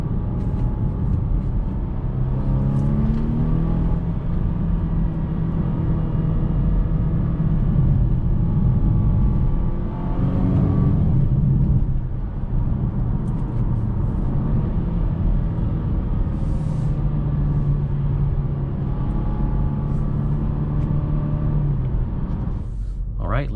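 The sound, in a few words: 2021 Volvo V60 station wagon driving and accelerating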